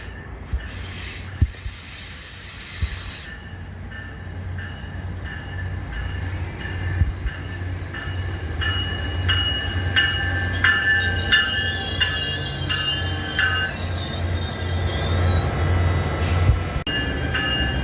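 Commuter passenger train arriving at a station in Montreal, a steady low rumble of wheels and engine building gradually with rail squeal and clatter rising over the last seconds, heard alone without talk.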